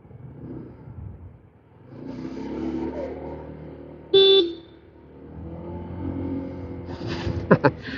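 A new motorcycle sounds a single short, loud toot of its horn over a steady idling engine, followed by faint ticking from the turn signal and a couple of brief clicks.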